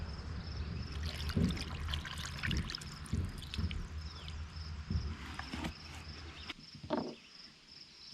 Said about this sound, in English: Then we add just enough water to cover the stones.